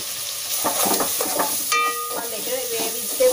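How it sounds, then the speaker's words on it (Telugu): Mixed vegetables fry with a little salt in a pan for coconut milk biryani, giving a steady close sizzle broken by stirring scrapes and a few brief ringing utensil tones, with no talk over it. "బాగా ఫ్రై అవుతాయి"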